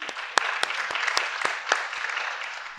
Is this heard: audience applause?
yes